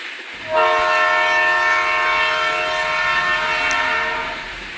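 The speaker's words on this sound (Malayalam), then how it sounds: "ഭയങ്കര സ്പീഡാ ട്രെയിന്" A fast train's horn blares with a steady, sustained chord for several seconds over the loud rumble of the passing train near Thrissur, Kerala.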